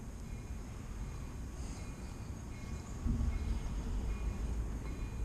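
The Big Trees train rumbles as it approaches along the railroad, a low, steady, distant roll that grows louder partway through, heard over outdoor ambience.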